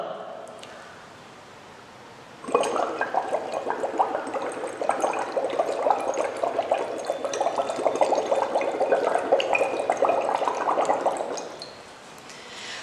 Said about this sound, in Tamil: இந்த ஸ்ட்ரா எடுத்துட்டு இந்த டம்ளரில் வச்சு ஊதுறோம்.